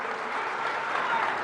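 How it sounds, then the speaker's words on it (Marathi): A political rally audience applauds in a continuous, even burst of clapping that fills the space, with a speaker's voice faintly underneath. "टाळ्या याकरता वाजवू नका, पुढच्या गोष्टी करता टाळ्या वाजवा."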